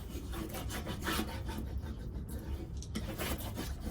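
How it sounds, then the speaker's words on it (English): A small wooden stick rubs firmly back and forth over a paper transfer on a mixed-media floral decor piece, a close, continuous scratchy burnishing with short strokes and no talk. "I'm just going to burnish or rub my whole transfer with my tool"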